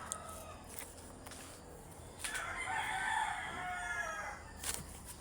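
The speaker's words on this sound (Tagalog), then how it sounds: "may ingay pa rin yung manok" A rooster crows loudly at close range before dawn outdoors, one long drawn-out call rising and holding for a couple of seconds, preceded by a few faint clucks and thumps.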